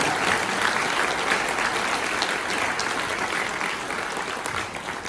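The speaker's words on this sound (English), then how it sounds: "please join me in another round of applause for Major" Dense, steady applause from the audience fills a Marine Corps birthday ball ceremony, a continuous wash of many hands that eases slightly toward the end.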